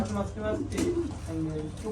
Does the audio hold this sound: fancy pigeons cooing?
yes